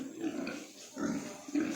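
Pigs in a shed after feeding, three soft low grunts in a loose rhythm, close by with faint background noise.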